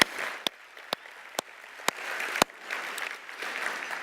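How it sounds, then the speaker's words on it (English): A conference lunch audience at IDSD 2016 applauds speaker Pam Scheideler with a moderate, continuous clapping that stays even throughout, while sharp regular clicks repeat about every half second on top. "if we could all give Pam a big round of applause."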